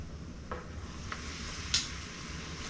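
A tortilla for a Mexican pizza sizzles faintly in a pan as it is flipped and pressed, with a few soft scraping taps over the quiet frying hiss.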